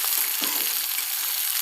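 Finely chopped onion sautéing in a pan for Maharashtrian kande pohe: a brief, steady, bright sizzle heard close and alone.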